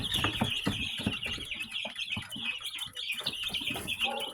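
Young chicks and hens fill a brooder with dense peeping and soft clucking, continuous and close, many birds calling over one another.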